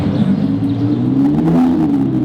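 A Lamborghini Revuelto fitted with a Mansory body kit sends out a loud, close engine rumble with a steady revving drone that swells slightly and holds throughout the short moment, with no voices over it.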